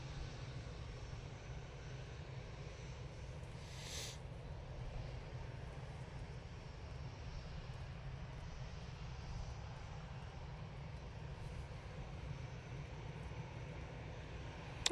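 An EasyJet airliner departs Manchester Airport with a steady, low jet-engine roar that stays faint and distant throughout and is heard alone.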